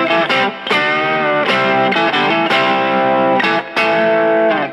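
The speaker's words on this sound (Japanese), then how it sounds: "めちゃめちゃディレイかかってる" An electric guitar played through a BOSS GX-700 effects processor preset, soaked in heavy delay with distortion; sustained chords ring continuously, with repeated attacks trailing off into echoes, loud and unaccompanied by voices.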